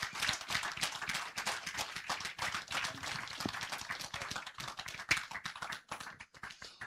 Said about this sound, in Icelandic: Gefum honum gott klapp.